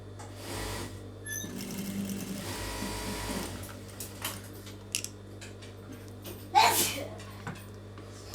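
A sewing machine runs a kinar stitch along the edge of a lined blouse, a steady mechanical whir in short bursts with pauses, close and fairly quiet, with a brief sharp noise near the end.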